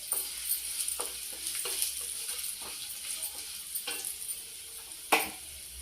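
Cumin seeds crackle and sizzle in hot oil as a tempering starts, a soft continuous hiss broken by small pops and a sharper spatter near the end, with no voices.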